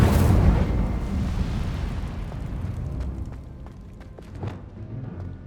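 Incendio fire spell cast in the Hogwarts Legacy video game: a loud fiery burst at the start that fades into a long crackling roar, with a few sharp pops near the end.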